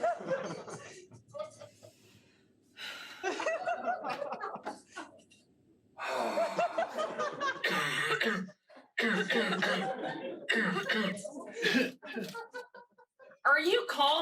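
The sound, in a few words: person coughing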